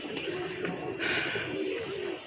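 Racing pigeon cooing during a pigeon club tournament, a steady low rolling coo continuing throughout over outdoor background noise, fairly close.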